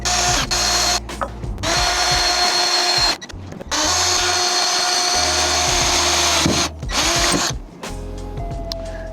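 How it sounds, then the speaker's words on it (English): A power drill drilling holes to install a vehicle awning whines in long loud bursts with brief pauses between, its motor pitch shifting as it bites in, ending in a lower steady hum. "Just finished the first side here, drill both holes in."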